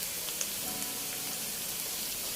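Egg dropped into a hot pan for kampung fried rice, giving a faint, steady sizzle with small crackling pops throughout and no voices.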